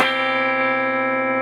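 A distorted electric guitar rings out a sustained flatted-ninth harmony over a low B, one loud chord struck at the start and held with a dense, buzzing stack of overtones, played alone.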